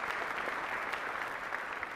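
Steady applause from a crowd at a high school senior recognition night, dense clapping continuing evenly throughout, moderately distant.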